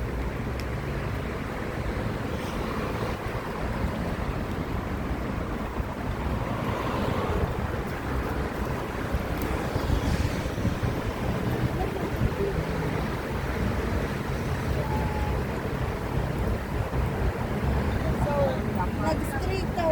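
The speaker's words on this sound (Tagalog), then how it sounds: "Oh, mahangin." Strong wind roars steadily across the microphone outdoors in Yerevan, Armenia, a constant rushing buffeting noise, with people talking faintly underneath.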